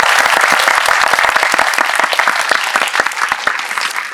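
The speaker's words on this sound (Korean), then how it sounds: "큰 박수" A theater audience at a film Q&A for the movie 'Cassiopeia' at Megabox COEX breaks into dense, loud applause, a continuous wash of many hands clapping close and full for the whole stretch.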